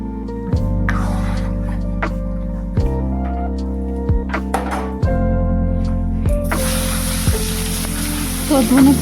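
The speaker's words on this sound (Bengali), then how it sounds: "টমেটো ডাল করছি কাঁচা লঙ্কা আর সর্ষে পূরণ দিলাম" Green chili and mustard seeds tempering in hot oil for tomato dal: a steady crackling sizzle that rises sharply and grows loud and broad in the final seconds, over a tonal background.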